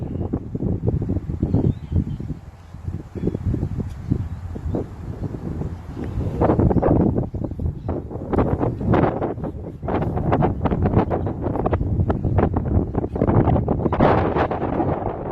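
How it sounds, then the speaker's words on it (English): Strong wind at an outdoor cricket match in Adelaide buffets the microphone with a loud, continuous low rumble and gusty roar throughout. "Sunny but windy here in Adelaide"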